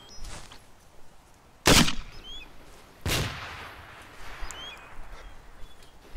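Gunfire at an outdoor hasty ambush training exercise: two loud, sharp shots about a second and a half apart, each with a trailing echo, against quiet background with faint bird chirps and no talk.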